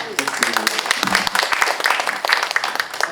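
A seated audience at a Korean panel discussion on basic income applauds. The crisp, dense clapping runs throughout, with a voice speaking over it.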